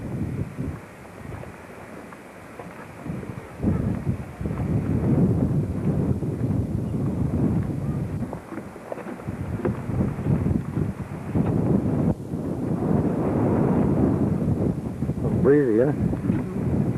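Strong wind buffets the microphone on a beach at a state park in Nags Head, gusting in rising and falling rumbles throughout, with a person speaking briefly.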